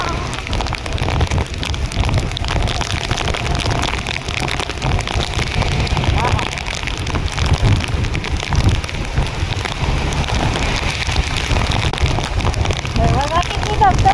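Steady broadband rush of rain and falling water from several waterfalls on a nature trip, constant and fairly loud throughout, with voices talking over it.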